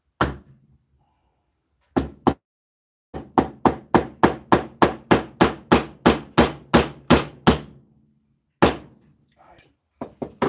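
Steady hammer blows strike a deer antler rack, two isolated hits followed by a rapid, even run of about fifteen loud, close strikes, then a pause and a few final taps.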